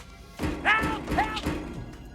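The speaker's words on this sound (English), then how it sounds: "As the invisible man hits an invisible glass window, the sound effects are filling in the blanks." A film sound effect for an invisible man smacking into an unseen glass window: a couple of sharp thuds and knocks with brief ringing tones, close and punchy, mixed with a short vocal exclamation.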